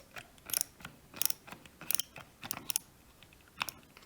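A curtain rail end bracket is tightened, giving quiet, close ratcheting clicks in irregular bursts of a few sharp ticks each.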